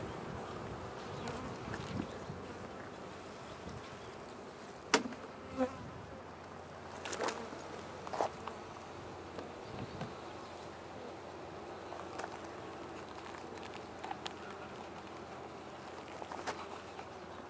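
Honeybees swarm around an open beehive in early spring, a continuous close buzzing drone with individual bees zipping past the microphone now and then, with no voices.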